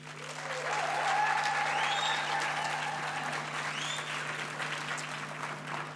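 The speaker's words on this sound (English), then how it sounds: "Now, graduates, give the people here a round of applause." Graduates applaud the gathered audience at a graduation ceremony, a broad, fairly distant wash of clapping that swells in and holds steady over a low hum, with faint whoops.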